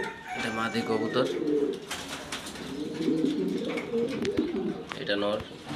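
A female pigeon in a paired loft in Mirpur, Dhaka, giving soft, rolling coos close at hand, repeated through the stretch while a person talks over it.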